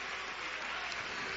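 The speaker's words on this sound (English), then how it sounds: "Clap your hands to the Lord." A congregation claps hands together in praise at a worship service, a dense steady wash of many overlapping claps with no clear individual beats.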